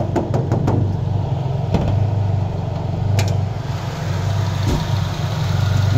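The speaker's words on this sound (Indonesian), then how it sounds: "Mesin stabil bersih." Engine of a 1993 Mazda 323 Interplay idling steadily, heard up close with a constant low hum and a few sharp clicks and knocks early on; no one speaks.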